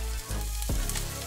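Meetwurst sausage hits a hot frying pan with a sizzle, a close steady crackle and hiss that briefly dips before flaring again as the slices settle.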